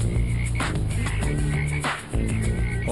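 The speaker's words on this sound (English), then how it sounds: "What force of nature brought a plague of bullfrogs to the Southwest?" Bullfrogs croak in a dense, continuous chorus, with many deep overlapping calls close by and loud throughout, introduced into the American Southwest.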